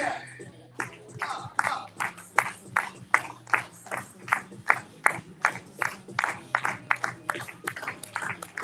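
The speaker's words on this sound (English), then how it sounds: "Clap your hands." An audience at a business boardroom event claps hands in a steady rhythmic beat, about two claps per second, over a background of indistinct crowd voices.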